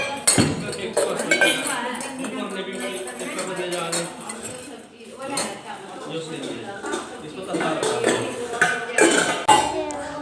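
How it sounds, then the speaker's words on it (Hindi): Knife work and clinking dishes as apples and guavas are cut up for a household keeping an Ekadashi fast, with steady clatter under ongoing speech. "सबके लिए सेब, अमरूद वगैरह काट रहे हैं सबको खिलाने के लिए"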